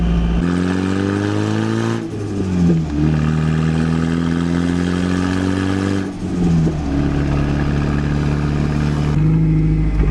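Turbocharged Toyota Tacoma truck engine revving and burbling, loud and close, with a steady drone that rises, dips and climbs again in repeated rev swells.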